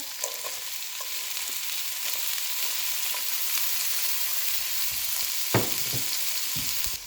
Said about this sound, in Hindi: अब मैं इसमें डालूंगी एक गाजर जो कि मैंने चॉप कर ली थी और साथ ही इसमें एक शिमला मिर्च